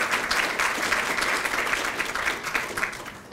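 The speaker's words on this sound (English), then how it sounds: "Please give a hand and applause to Linda Warner, Amy Hill, and Christine Piniano." A luncheon crowd gives warm, sustained applause, dense and even, tapering slightly at the close.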